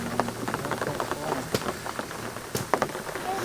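Pouring rain at a muddy campsite on a 4WD track in freezing Tasmania, a soft steady patter broken by scattered sharp drips and taps, fairly faint and close.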